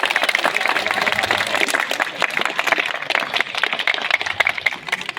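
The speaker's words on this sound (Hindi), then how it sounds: "तालियां उसके लिए बजाएं।" An audience at a school annual function at Gurukulam Academy in Champawat, Uttarakhand, applauds a child performer, with dense, sustained clapping from many hands at a steady level the whole time.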